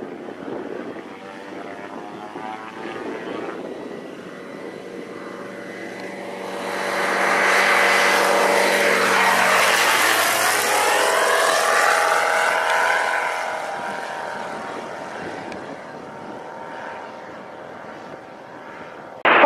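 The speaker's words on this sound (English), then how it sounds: "Very quick takeoff. 701 is an awesome airplane." A Zenith STOL CH 701 light propeller airplane takes off, its engine droning and rising to a loud peak with a sweeping pitch change, then easing back to a steady hum.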